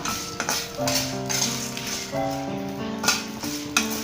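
Dried red chillies roast lightly with lentils in a pan for cabbage chutney, giving a soft dry sizzle under intermittent spoon scrapes and clinks against the metal. Steady tonal music plays throughout.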